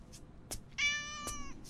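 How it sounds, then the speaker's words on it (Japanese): A cat inside a school building gives one clear, close meow in the middle, framed by a few brief soft chirps or clicks in an otherwise quiet indoor space. "猫神様のお使いか"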